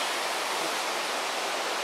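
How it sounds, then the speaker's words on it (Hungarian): Steady roar of a waterfall seen from its very top during a hike in Transylvania, a dense, even rush of falling water filling the whole two seconds with no voices. "Ez a legfőső része, ez maga a vízesés."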